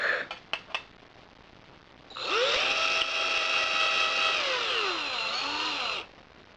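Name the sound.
drilling a Logitech Driving Force GT part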